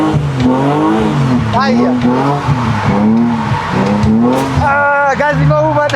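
A drifting car revs hard with tires squealing and skidding, the engine note rising and falling in sweeping waves, while a driving instructor's voice talks over it throughout.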